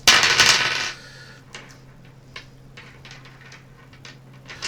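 Dice tumble and clatter loudly for about a second at a tabletop RPG session, followed by a few faint scattered clicks and taps against a quiet room.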